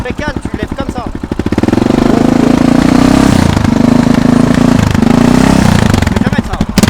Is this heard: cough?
no